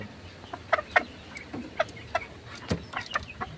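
A bulik hen, a three-time-winning breeding hen, clucks in short repeated bursts at close range, with irregular gaps between the clucks and no talk.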